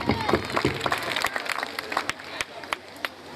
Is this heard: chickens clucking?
no